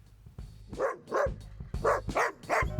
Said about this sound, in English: My dog Hazel is my toughest critic for sure